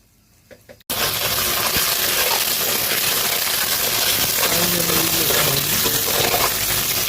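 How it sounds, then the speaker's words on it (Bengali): A spice paste of salt and turmeric fries in a pan, a loud steady sizzle that starts abruptly after a moment of quiet and keeps going with faint stirring scrapes. "মশলাটা লাল করে ভাজা হয়ে গেছে।"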